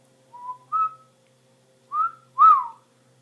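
A person whistles to a lutino cockatiel in four clear, melodic notes with short gaps between them, the last one loudest and sliding in pitch, against a quiet room with no talking.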